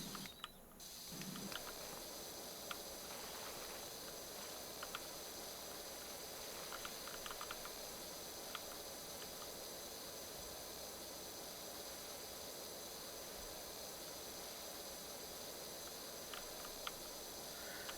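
A pressure washer sprays in Powerwash Simulator, giving a steady, broad hiss that runs unbroken for the whole stretch with no voices.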